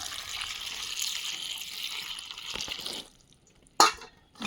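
A steady stream of water is poured into a pot of washed eggplants and green chillies for about three seconds, then stops, followed by a brief sharp clink and quiet.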